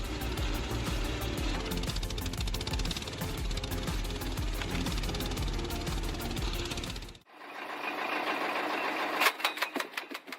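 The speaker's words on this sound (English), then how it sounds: "This is a comprehensive wood splitting machine." A firewood processing wood splitting machine runs loudly with a dense, rapid mechanical clatter, cuts out briefly, then restarts with rhythmic knocking pulses close up; no voices.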